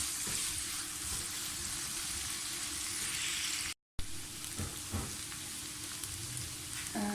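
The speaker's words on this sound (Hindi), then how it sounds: "प्याज हमारी फ्राई हो रही है, थोड़ी सी और होनी चाहिए।" A soft, steady sizzle of onions frying in a pan, faint and continuous, with a brief gap in the middle and occasional light stirring.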